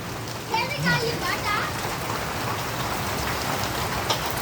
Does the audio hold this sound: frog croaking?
no